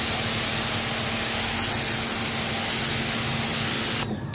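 A Sunjoe SPX3200 electric pressure washer sprays water against grimy surfaces in a dense, loud, continuous hiss that stays steady for about four seconds, then dips slightly and roughens at the end.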